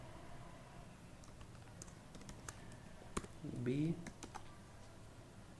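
Computer keyboard typing code in short, sparse bursts of keystrokes, fairly faint, with a voice talking over it.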